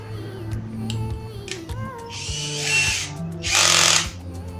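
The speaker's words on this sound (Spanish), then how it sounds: "taladro destornillador inalámbrico de 12 voltios WORKPRO de la línea rosada" A pink WORKPRO 12-volt cordless drill driver with an 8 mm bit drills into wood for a breakfast tray. Two short whirring bursts stand out over a steady tonal background.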